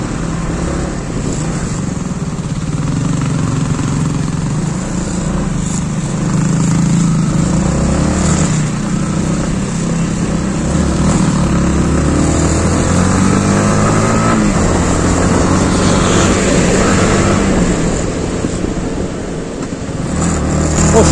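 A motorcycle climbing the winding road up Nandi Hills near Bangalore at dawn, its engine droning steadily and close throughout with wind rush and a few rises in revs, no talking.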